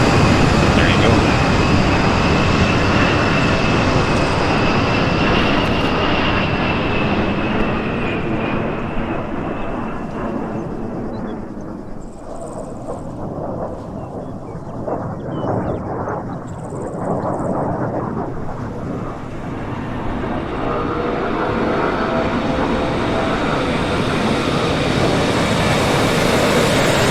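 A spawned airplane in a military scenario game drones steadily overhead, its engine roar continuous and fairly loud, dipping slightly in the middle before swelling back as it passes.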